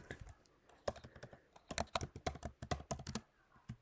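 Someone types Python code on a computer keyboard, with irregular quiet clusters of key clicks and a short pause near the middle.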